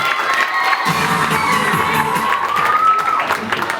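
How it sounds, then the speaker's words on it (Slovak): A holiday dance show audience in a bistro cheers and claps loudly, with children shouting and whooping in an excited, sustained burst of crowd noise. "Veľký potlesk, áno."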